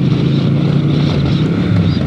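A 2020 Triumph Thruxton 1200 RS twin-cylinder motorcycle rides along with a steady, loud engine drone heavily mixed with wind rush, without a break throughout.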